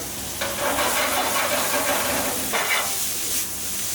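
Meat sears and browns in a hot pan in a restaurant kitchen, giving a loud, continuous sizzle that swells and fades with stirring, with no talking over it.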